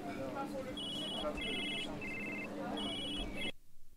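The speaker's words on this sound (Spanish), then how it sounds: "¿Pero qué está pasando con los teléfonos?" Telephones ring in a Food Truck video game kitchen, with repeated bursts of bright electronic trilling that keep starting and stopping. A voice talks over them throughout.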